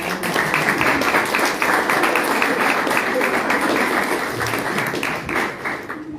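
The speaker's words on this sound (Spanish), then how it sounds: "Damos un aplauso al licenciado." Listeners at a Spanish-language panel presentation applaud in a sustained, busy patter of many hands. A few voices mix in, and the clapping eases slightly toward the end.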